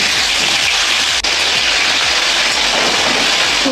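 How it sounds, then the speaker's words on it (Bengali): Snakehead (shol) fish frying in a pan gives a steady, loud, dense sizzle that runs unbroken throughout, with faint low thumps underneath and no voices. "মাছগুলো ভেজে"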